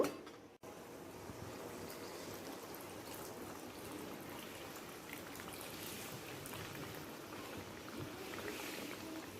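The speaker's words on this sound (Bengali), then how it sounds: "আরও একটুখানি জল দিয়ে দেব" Water poured into a pan of mixed vegetable curry sends a steady, close splashing trickle that runs without a break for the whole stretch, with no voices over it.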